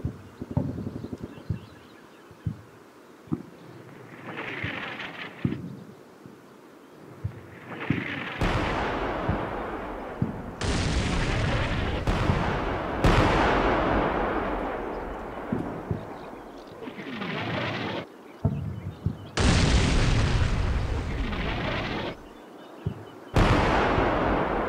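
Artillery fire mission in the Cold War tactical video game Combat Mission Cold War: loud, heavy booming blasts with sharp onsets, landing at irregular intervals and overlapping into a sustained barrage.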